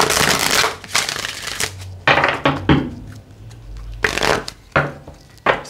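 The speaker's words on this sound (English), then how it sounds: "Five shuffles." Tarot cards are shuffled in several quick, crisp riffling bursts separated by short pauses, loud and close.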